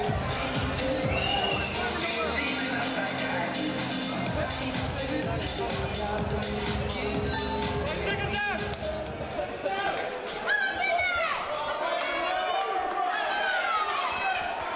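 A crowd roars at a K1 amateur kickboxing fight in Kent, a steady din under a fast-talking commentator's voice, with tonal music-like sounds and short thuds mixed in.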